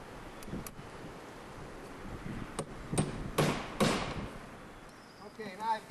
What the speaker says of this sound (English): And then I put my nail in.